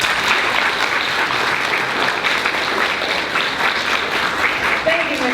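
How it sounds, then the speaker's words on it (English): Sustained audience applause at a school fifth-grade celebration, a steady dense wash of many hands clapping at close-to-medium distance, holding evenly throughout. "One more last round of applause."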